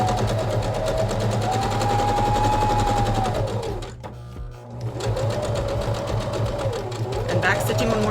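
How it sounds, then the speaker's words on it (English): A sewing machine stitches a fabric mask seam in rapid, even bursts, pausing briefly midway before running again, while a voice talks over it. "stitching at 1/4 inch again, or lined up with the edge of the presser foot."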